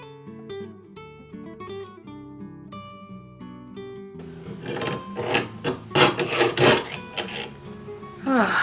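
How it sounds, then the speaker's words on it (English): A hand saw rasps through thin sheet metal being cut into a jewelry nameplate, fast repeated strokes growing louder after a stretch of soft background music. "I'm so sick of sawing"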